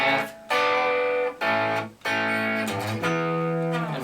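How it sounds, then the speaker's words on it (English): Distorted electric guitar plucked with the thumb playing a rock riff, with a few sustained chords and short breaks between them. "Thumb's such a great sound, especially with distortion"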